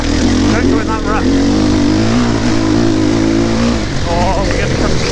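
Enduro motorcycle ridden along a loose-surfaced stage, its engine revving and pulling at close range beneath someone talking steadily over it.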